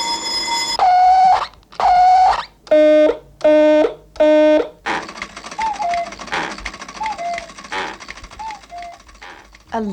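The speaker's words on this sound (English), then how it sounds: "alarm clocks, possibly the most hated invention in the history of technology" An alarm clock rings in five loud, evenly spaced buzzing bursts over about five seconds, followed by a person talking.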